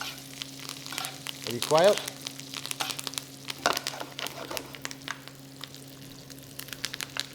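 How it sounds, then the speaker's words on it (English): Quail being pan-fried and basted with butter and aromatics, a steady quiet sizzle with brief spoon-and-splash bursts as butter is poured over, and someone speaking briefly over it. "tilt the pan towards you and just keep basting that butter over the top"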